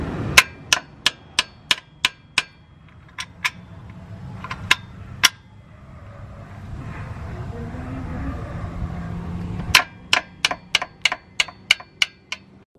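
Sharp metallic hammer strikes on a stuck oil drain nut of a Honda Civic come in quick bursts of several blows, separated by a quieter stretch of low rumbling background.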